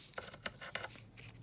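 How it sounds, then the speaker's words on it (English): Scissors snipping paper for a book-page collage, a few soft, quiet cuts spaced out in a short burst, close by. "snip that out"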